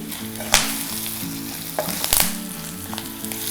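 A tempering of oil with turmeric powder sizzles loudly and steadily in a pan, close up, with a few scraping stirs; a low hum runs underneath.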